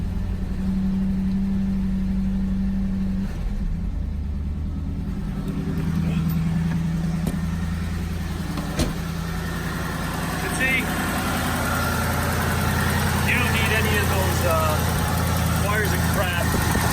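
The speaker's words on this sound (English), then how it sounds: "Let's give it a little cold start." Carbureted Pontiac Trans Am cold-starting and settling into a steady, rumbling idle, a constant low engine drone close by with a person talking over it.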